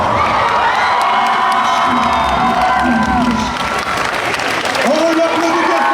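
A convention crowd at a cosplay contest applauds and cheers loudly for a costumed contestant, dense clapping with whoops and shouts throughout, while a host's amplified voice speaks over it.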